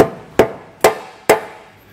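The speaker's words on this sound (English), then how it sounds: "you take a rubber hammer and kind of just hit it on the backside" A rubber hammer strikes the back of a car bumper beam on a 2018 Mercedes-Benz GLC, three dull, evenly spaced thuds about half a second apart, close and fairly loud, with no talking.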